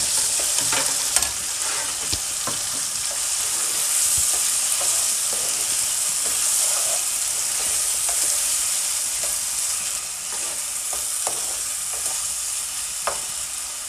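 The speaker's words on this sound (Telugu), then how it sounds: "దాన్ని ఇందులో యాడ్ చేస్తాం. వేసుకొని పచ్చివాసన పోయేదాకా వేయించుకోవాలి." Onion paste frying in a pan for Andhra-style crab curry, a dense, continuous close sizzle with scattered light crackles and occasional stirring scrapes, loud and unbroken with no voices.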